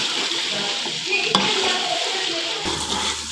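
Ginger-garlic masala frying in oil in a pan for chicken white qorma, with a steady close sizzle and a couple of louder stirring scrapes, no talk.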